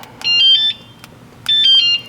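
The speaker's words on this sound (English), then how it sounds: "Our golf cart alarms are easy to operate" A golf cart security alarm sounds loud and close in two short bursts of rapidly alternating high electronic chirps, separated by a brief pause.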